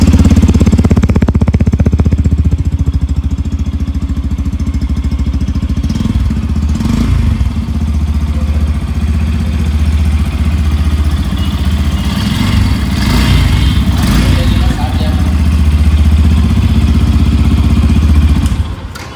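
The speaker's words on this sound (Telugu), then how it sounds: "ఇంజన్ శబ్దం చూడండి ఒకసారి ఎలా వస్తుందో ఇంజన్ సౌండ్ చూడండి లౌడ్ సౌండ్" A 2023 Yamaha FZS FI V4 motorcycle engine runs close by with a loud, steady idle rumble and a chattering mechanical clatter that holds throughout.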